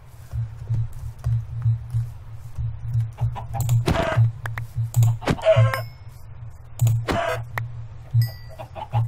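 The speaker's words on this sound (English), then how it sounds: "Chickens here." Short chicken clucks in a Minecraft-style forest game pop up now and then over a steady low hum and scattered clicks, with a couple of brief bursts of noise in between.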